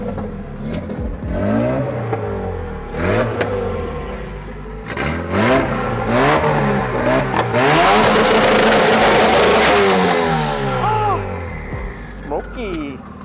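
EK hatchback with a B16A engine and GT3582 turbo revving hard, repeated rising and falling throttle blips building to a loud sustained high-rev pull, then dropping off, with people talking around it.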